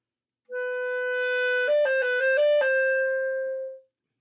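A clarinet plays a short etude phrase: a long sustained note, a quick run of tongued notes, then another held tone, clear and close.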